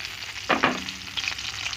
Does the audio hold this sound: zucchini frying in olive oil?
yes